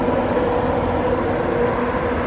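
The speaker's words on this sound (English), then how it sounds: "Can hear a train going past." A train passing in the distance near a railway bridge gives a steady, loud, low rumbling drone with a faint tonal hum, continuous and unbroken throughout.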